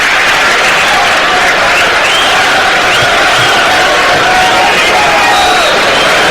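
A packed football stadium crowd for Nottingham Forest against QPR applauds and cheers before kickoff, a loud, dense, continuous roar of clapping and whoops.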